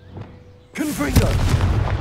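Confringo fire spell cast in Hogwarts Legacy, bursting into a loud booming explosion with a rumbling blast that sustains and crackles after a quiet start, with game voices speaking over it.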